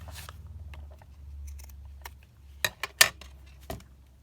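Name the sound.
scissors trimming paper for junk journal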